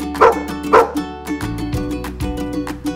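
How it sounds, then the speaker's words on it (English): A dog gives two quick, sharp barks near the start, then only a bouncy musical beat continues. "A dog says woof,"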